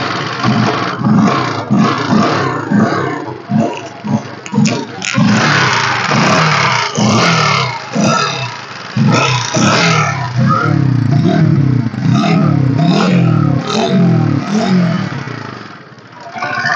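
A Honda Splendor motorcycle in used condition is self-started and revved, its mid-pitched engine surging loud and close in repeated throttle blips throughout.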